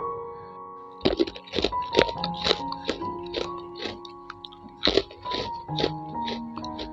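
Crunchy homemade ketapang seed cookies, made with flour and egg, being bitten and chewed up close, with loud brittle crunches and cracks repeating in an irregular rhythm over a faint background hum, no talking.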